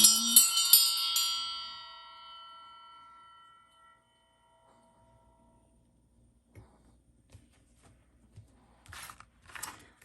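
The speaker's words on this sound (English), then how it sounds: "I'm going to go ahead and ring the bell just to get some good energy in here" A hand bell rung once at the start, a bright metallic ring that fades slowly over a few seconds, then near silence broken by faint clicks and soft rustling.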